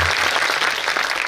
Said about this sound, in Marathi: तुम्ही आलेले भाविक टाळ्या वाजून त्यांचं स्वागत करा